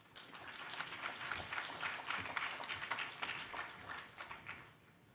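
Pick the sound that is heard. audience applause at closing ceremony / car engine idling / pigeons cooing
audience applause at closing ceremony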